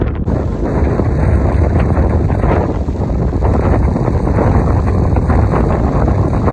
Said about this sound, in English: Well, it's pretty windy.